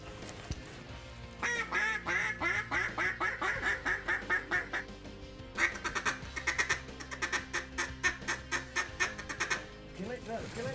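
Mallard ducks quack in a rapid rhythmic series during a midseason hunt, two bursts of loud close calls separated by a brief pause, likely from a duck call.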